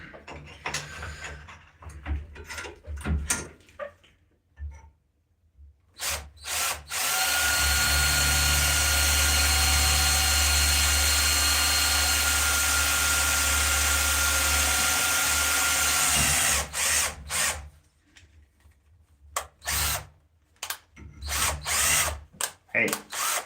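A power drill with a 3mm bit bores into a z-axis rail part, first in a few short bursts, then in one long steady whine of about ten seconds, then in more brief stop-start bursts.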